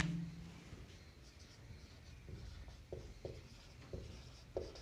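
Chalk or marker writing on a classroom board during a Hindi-language chemistry lesson on solutions, heard as soft scratchy strokes in short bursts that grow crisper toward the end, with a brief voice at the start.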